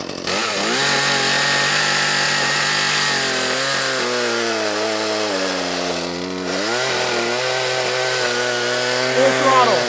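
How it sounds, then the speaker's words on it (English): A 30cc chainsaw fitted with a long 14-inch bar cuts thin cookies from oak, the engine droning loud and close at high revs, sagging in pitch under load midway before climbing again. "But I'm gonna try to cut thin cookies here. This is oak."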